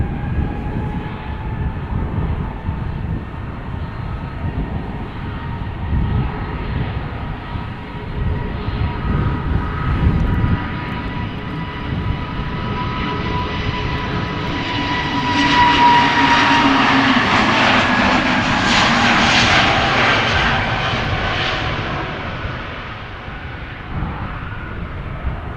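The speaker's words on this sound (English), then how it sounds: "there's an A320neo taking off right now," An Airbus A320neo jet takes off from Amsterdam Schiphol toward Copenhagen, its engine roar building from a distant whine into a louder, fuller rush around the midpoint before fading slightly, with no voices over it.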